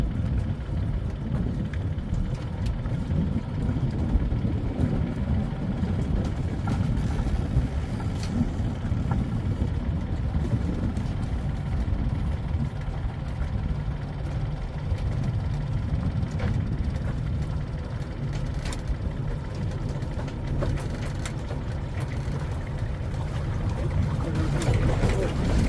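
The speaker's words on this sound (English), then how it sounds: "You can hear how the boat was dragged over rocks" A sailboat caught in an Adriatic storm runs aground, its hull grinding and scraping over rocks in shallow water amid continuous loud rumbling, wind and water noise.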